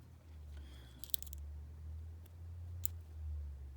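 Lock pick raked quickly across the pin stack of a Packlock 90A-PRO lock to knock down overset pins, heard as a brief burst of faint metallic clicks followed by a few isolated ticks, close and quiet.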